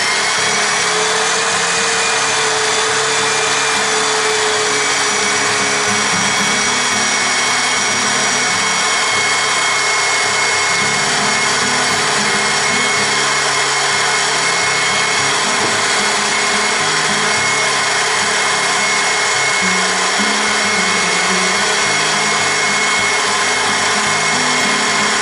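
A food processor blending hummus runs steadily and loudly for the whole stretch, a constant whirring motor drone with a grinding, rubbing texture and no pauses.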